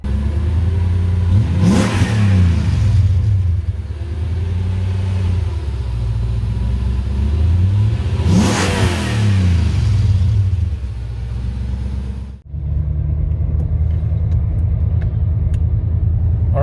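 A Mercedes-Benz 560 SL AMG with a 480 hp supercharged M113K engine and manual gearbox accelerates hard through two strong rising pulls with a gear change between them, then settles to a lower cruise, loud and close from inside the car.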